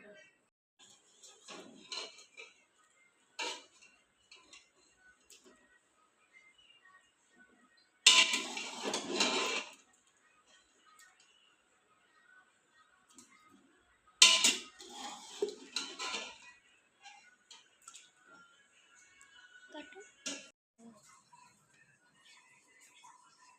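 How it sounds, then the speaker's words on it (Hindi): Potatoes are peeled by hand in a home kitchen: sparse scraping strokes, two longer rasping bursts and occasional utensil clinks against a quiet background. "अब हमने इसको छीलना है आलूओं को"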